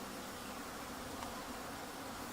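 Honeybees buzz steadily around a group of urban beehives in an apiary of about seven hives, a soft continuous hum with no voices, faint and even throughout.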